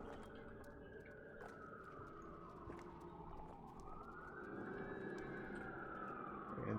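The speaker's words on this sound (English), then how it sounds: "apologies for the sirens you can probably hear in the background" Faint sirens wail in the distance, their pitch rising and falling slowly over steady background noise, with no one speaking.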